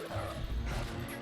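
Dog barking in the video game Zelda: Twilight Princess, a short run of yips and bow-wows filling the whole moment, dense and fairly loud with no talking over it.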